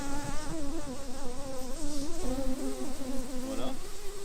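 Honeybees buzz in a steady, close swarm of overlapping wingbeat drones above an open hive frame on a Gascony apiary, continuous throughout with no talk.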